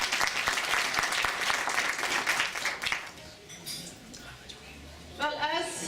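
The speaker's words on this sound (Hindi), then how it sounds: "So इनके लिए जोर से तालियां बजाएं।" An audience at a Kashmiri Pandit remembrance gathering applauds guests, loud steady clapping for about three seconds that fades out, followed by quieter talk.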